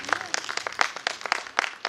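An audience at a modeling show claps in a brief burst, sharp irregular hand claps close by with a voice faintly underneath.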